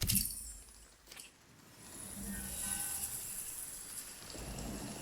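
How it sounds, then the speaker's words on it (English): Rain falling in the survival video game Nightingale, a steady broadband hiss with faint crackles, fading briefly then returning at an even level throughout. "it's raining"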